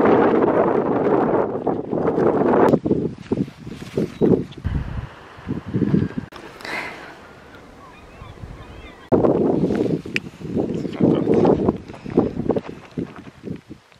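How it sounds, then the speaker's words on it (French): Gusty wind buffets the microphone in rough bursts on a trek on Belle-Île-en-Mer, with voices talking over it before a quieter, breezy stretch and then more talk. "Il y a du vent."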